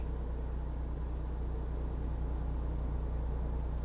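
Continuous low engine drone of a truck in the game Vintage Story, a steady rumbling hum that stays even and fairly loud throughout, with no voices.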